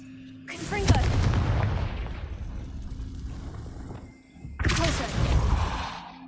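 Confringo explosion spell cast in a video game, two heavy booming blasts, the first erupting and slowly fading over several seconds, the second striking again loudly near the end.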